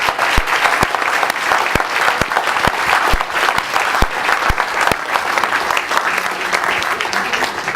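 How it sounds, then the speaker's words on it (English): Loud, sustained audience applause for a conference panel fills the room, dense clapping continuing steadily without pause throughout. "I want you to give the panel a big round of applause"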